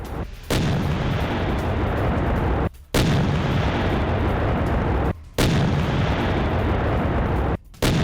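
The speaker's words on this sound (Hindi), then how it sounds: "MT-12 एंटी टैंक गन से गोले दागे हैं।" A Russian MT-12 anti-tank gun fires shells in an attack on Ukrainian positions. Loud, sustained booming roars come in three long stretches, each broken by a brief drop-off, with no voices.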